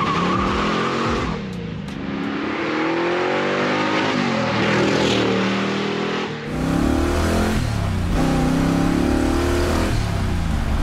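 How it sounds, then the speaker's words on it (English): A custom 720 hp classic Corvette Sportwagon revs and accelerates hard, its engine note climbing through rising pitch sweeps with brief tire squeal, loud and close, then a gear change and another surging pull. "tears up the asphalt with a spine-tingling acceleration, reminding everyone that it's a Corvette at heart"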